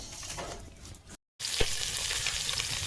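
Cut fish frying in a pan of hot oil in a home kitchen; a steady, loud sizzle runs throughout, briefly cut to silence before resuming just as strong.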